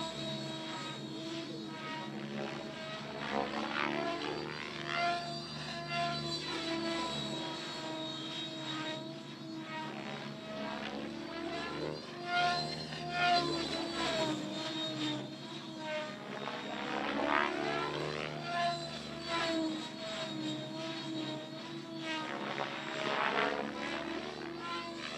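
A model aircraft flies 3D aerobatic set manoeuvres at a championship, its propeller and engine whining loudly and sweeping up and down in pitch as the throttle surges and eases.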